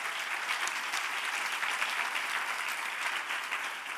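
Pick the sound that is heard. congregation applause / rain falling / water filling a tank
congregation applause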